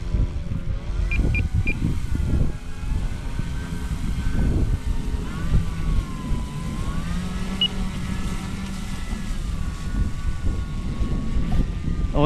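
An Extra 330SC model aerobatic plane on bush wheels taxis on the ground, its small electric motor a steady whine rising and falling in pitch, fairly close, with rumbling wheel noise beneath.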